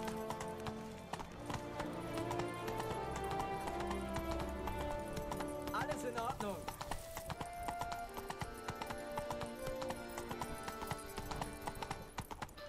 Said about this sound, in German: Auch wenn Plötze innerhalb der Stadt nur so langsam reiten darf und wir uns hier durch irgendwelche Gässchen quetschen müssen mit dem Pferd.